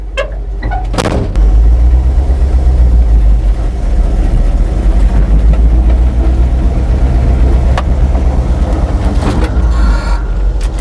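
An abandoned Dodge D-600 truck, left for 23 years, starts with a brief clatter and then rumbles with a loud, deep, steady engine drone while the truck creeps forward, with a few knocks and clunks over the running engine.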